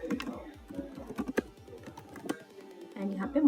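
Quick clicking keystrokes on a computer keyboard while entering a name and email into a login form, a steady run of close, light taps with a few louder strokes, heard alone without talk.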